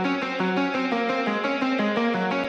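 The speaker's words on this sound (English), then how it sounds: "This is just a whole bunch of different one-shots or plugins put together with some amp distortion on them as well." A distorted MIDI guitar layer run through amp distortion plays a choppy, rhythmic repeating riff of stepped notes in a drum and bass track, loud and continuous with effects.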